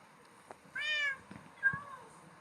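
A Minecraft cat meows twice, close and fairly soft, the first meow longer and the second shorter, over a quiet background with faint clicks.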